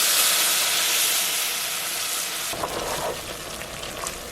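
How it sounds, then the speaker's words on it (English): Enchilada sauce hits hot oil in a pot on the stove, a loud broad sizzle and steamy hiss that drops off sharply midway, then softer bubbling and spattering continues, with no talking. "We're gonna add a little oil in the pot. Heat that up. Okay, add in the enchilada sauce."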